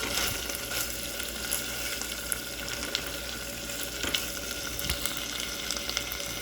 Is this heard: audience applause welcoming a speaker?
no